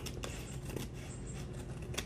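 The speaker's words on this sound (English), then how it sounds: "These are my gluey scissors, painty." Old, gluey, paint-crusted scissors used for mixed media crafting snip close by, with soft repeated cuts and light rustles at an irregular rhythm, quiet and without talk.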